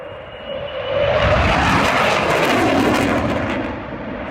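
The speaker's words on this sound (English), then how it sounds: "This fighter jet doing a tight turn over the crowd." A fighter jet banks in a tight turn over an airshow crowd, its loud broadband engine roar swelling within the first second and holding steady before easing slightly toward the end.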